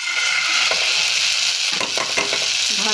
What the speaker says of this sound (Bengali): প্রথমে আমি সরিষা ভেজে নিচ্ছি